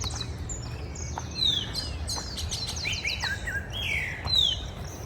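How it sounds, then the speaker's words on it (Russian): Several birds chirp and trill on an early December morning in Argentina, their sweeping high-pitched calls layered over a steady low rumble of background noise. "Послушайте, как поют птицы"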